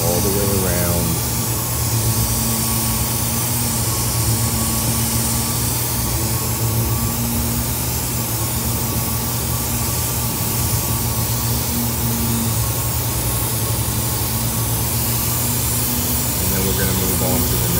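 Air-fed spray gun hissing steadily as base coat is sprayed onto a car wheel during a blend repair, a continuous broadband rush over a low compressor hum, with a voice talking over it.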